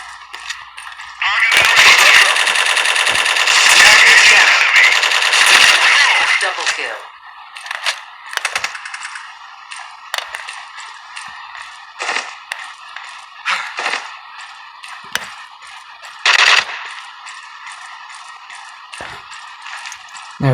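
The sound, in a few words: gun firing with recoil in video game Strike Team Online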